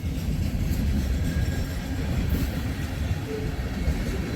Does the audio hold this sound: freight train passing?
yes